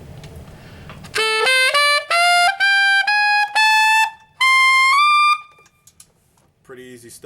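A tenor saxophone climbs a stepped series of sustained, bright notes into the altissimo register up to a high E, each tone held briefly with short gaps, loud and close, followed by a brief quieter phrase.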